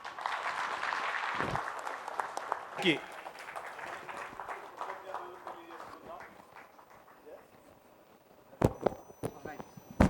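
Listeners applaud to thank a speaker at a seminar, scattered claps under ongoing chatter and talk, with a louder burst of clapping near the end.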